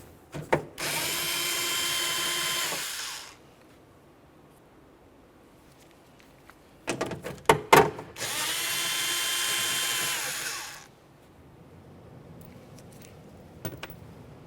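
A power tool spins off 11mm nuts inside the door of a 2001-2005 Ford Explorer Sport Trac during window motor replacement. Two loud, sustained whirring bursts of a few seconds each are separated by clicks and clatter of handling.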